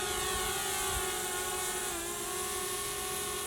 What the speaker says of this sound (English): There's a much bigger helicopter up there.